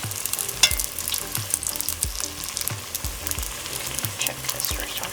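Banana lumpia fry in hot oil with a steady crackling sizzle, and sharp clicks break through the hiss now and then.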